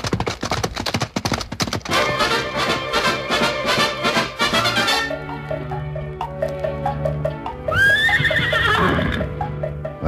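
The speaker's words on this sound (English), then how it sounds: "let's get on our horses and be on our way" Horses neigh over a fast, busy clatter of hooves clip-clopping, which drops to a quieter backing before a loud whinny breaks through near the end.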